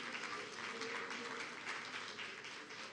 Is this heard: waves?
no